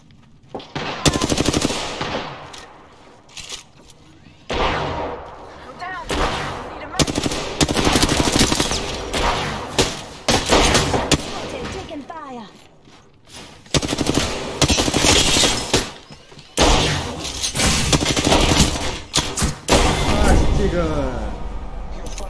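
Video game weapons firing in repeated bursts of rapid automatic gunfire and single shots, loud and close throughout, with a voice talking over parts of it.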